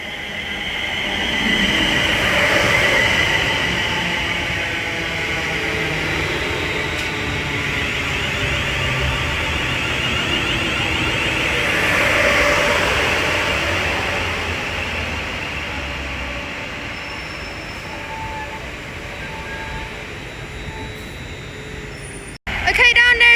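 A Class 350 electric multiple unit passes through Bletchley station on the West Coast Main Line, with a sustained rumble and a rising and falling motor tone. A station announcement plays under it, and a sharp clunk comes near the end.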